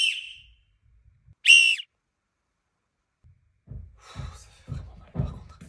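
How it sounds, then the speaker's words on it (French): Extremely powerful whistle blown inside an anechoic chamber, short piercing high blasts with breathing between them, then a person talks briefly. "Je vais essayer le sifflet le plus puissant du monde dans une chambre anéchoïque."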